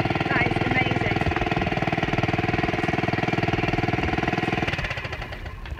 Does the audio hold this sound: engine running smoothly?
yes